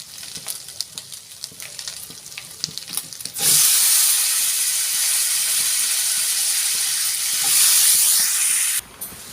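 Washed Malabar spinach and pumpkin hit hot oil with five-spice, bursting into a loud, steady sizzle that holds for several seconds before cutting off abruptly near the end, after a stretch of quiet stirring clicks.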